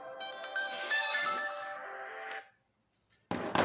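A mobile phone ringtone plays a bright electronic melody loudly for about two and a half seconds, cuts off abruptly to silence, then a burst of noisy handling sound follows.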